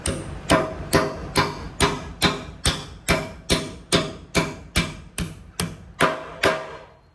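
Steady, evenly spaced hammer blows drive a concrete anchor bolt for a two-post lift, about fifteen sharp metallic bangs in a row, loud and close, each ringing briefly before the next strike.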